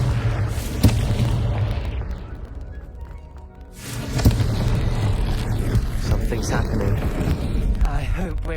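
Confringo spell explosions in the Hogwarts video game, two deep booming blasts with a pause between them and a rumbling low roar afterward, with voices heard talking.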